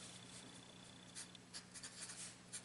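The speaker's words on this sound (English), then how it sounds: "So let's write that down." A pen writes on paper in a quiet room, producing soft scratchy strokes in short irregular bursts that grow busier toward the end.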